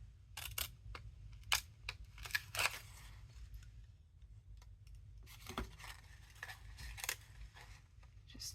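Sharp clicking snips of antique scissors cutting paper, several quick cuts in two clusters separated by a brief pause, with a low steady hum underneath.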